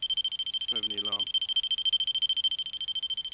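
A ghost hunting meter alarm goes off inside St Andrews Church, Ashingdon, a steady rapid electronic beeping that pulses without pause throughout, loud and close, with a brief burst of a person talking partway through.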